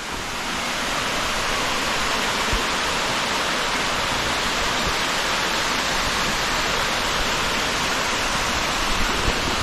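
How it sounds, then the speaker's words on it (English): King's Waterfall in Tobago roars in a constant, loud, broadband rush of falling water heard close up, steady and unbroken with no voices. "King's Waterfall."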